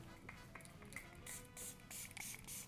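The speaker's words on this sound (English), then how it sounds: "I did pick up the glazing mist, which I've been curious about" A Sephora glazing face mist is sprayed in several short, soft hissing bursts close to the microphone, quiet and alone.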